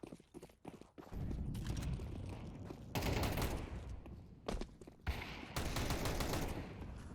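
Rapid automatic weapon sprays ring out in Counter-Strike during a match, dense bursts of gunfire broken by brief pauses, loud and close.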